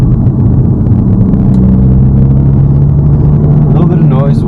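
A Mk8 Volkswagen GTI engine lugs at about 1500 RPM in third gear, a loud, steady low droning rumble inside the cabin with a faint whine rising near the end.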